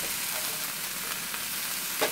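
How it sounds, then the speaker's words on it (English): Broccoli sizzles and crackles as it fries in a hot pan, a continuous hiss with small pops, close and fairly loud. "Frying the broccoli and then... Stir frying or frying?"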